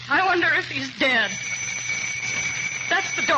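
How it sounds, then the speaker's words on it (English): A doorbell rings in an old-time radio drama, a sustained electric bell tone ringing for about two seconds between bursts of excited voices speaking over it. "That's the doorbell."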